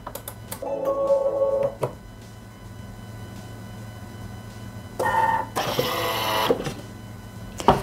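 A Thermomix kitchen processor whirs loudly in a short grinding burst chopping chocolate, rattling briefly, after quieter clicks and a low steady hum.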